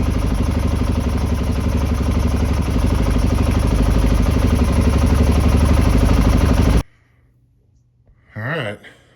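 A Honda XR650R motorcycle engine idles without its air cleaner, a steady, close, loud thumping that runs for about seven seconds and then cuts off abruptly, followed by a short burst of sound near the end.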